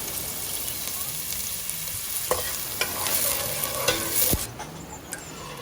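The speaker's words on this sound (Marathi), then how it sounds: "कांदो आमी बरे तळसून घेवया." Onions frying in hot oil in a pot for a Konkani anchovy okra curry, a steady mid-level sizzle broken by occasional clinks and scrapes of stirring.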